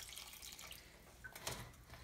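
Water is poured into a cooking pan of raw mango and drumstick avial, giving a steady rushing splash with a brief louder spatter midway. No one speaks.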